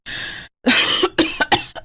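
An elderly woman coughs in a short series of harsh, close bursts: one long rasping cough, a pause, then several quicker choppy coughs trailing off.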